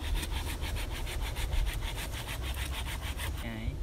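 A hand saw cuts through a wooden pole in a quick, steady back-and-forth rhythm of rasping strokes, close and continuous, ending abruptly, outdoors in a forest.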